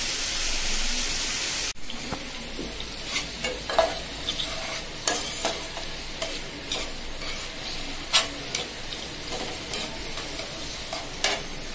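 Spice masala sautés in a pan for a fish curry with pointed gourd, a steady close sizzle punctuated by frequent rhythmic stirring scrapes, after a brief louder hiss at the start.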